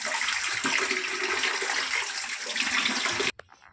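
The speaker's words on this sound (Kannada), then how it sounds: "ನೋಡ್ರಿ, ಬದ್ನಿಕಾಯಿಗೆ ತೊಳೆದೀನಿ" Brinjals (eggplants) are washed under running water, a loud steady splashing rush that stops abruptly near the end, leaving a couple of faint drips and clinks.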